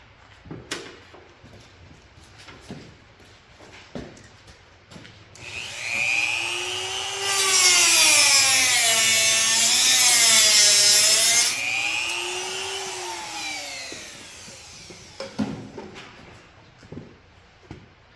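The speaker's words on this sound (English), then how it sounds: "And now we can go ahead and just snip off the outer cable." A small motorized cutting tool winds up and whines for several seconds, its pitch wavering, while cutting the outer choke cable of a 1945 Willys MB. Light clicks and handling noises come before and after.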